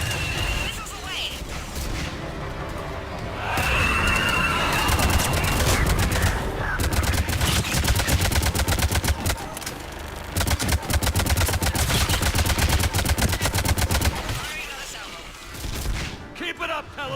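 Rapid aircraft gun bursts in the Mass Effect 3 game, a dense, loud, sustained rattle of gunfire running through most of the clip, with voices and engine roar mixed underneath.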